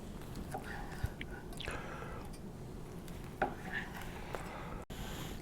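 A knife slices thin rounds of smoked buffalo chicken sausage through its casing, giving a few soft, close cutting taps and scrapes scattered over a steady low background hiss, with no talking.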